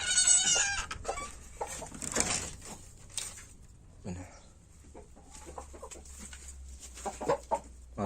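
Laying hens of a purchased breed cluck and call at a small backyard poultry farm, with bird noise loudest at the start and scattered calls continuing under occasional voices.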